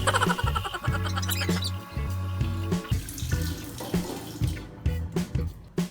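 Water runs from a tap into a sink while hands are washed at a resort, a steady splashing stream with shifting gurgles, close by and with no talk over it.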